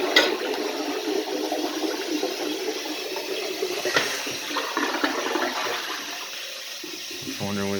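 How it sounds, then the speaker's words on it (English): A vintage 1991 URC toilet flushes with a loud, close rush of water that swirls and drains for several seconds, then settles into a refilling trickle. "Alright, I gotta go. This is gonna be the last flush."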